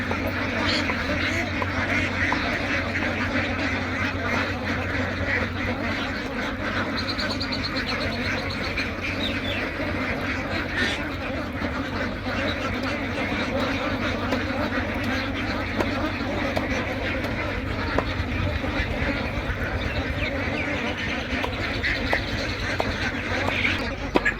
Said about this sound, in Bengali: আমি একটা হাঁস খামারে এসেছি এখানে পনেরোশো হাঁস আছে